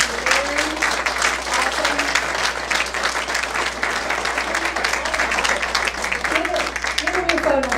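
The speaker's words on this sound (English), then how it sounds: "Let's have a warm round of applause." Audience at a Rotary Club meeting breaks into sustained applause, dense overlapping clapping that holds steady throughout, with a few voices faintly audible beneath it.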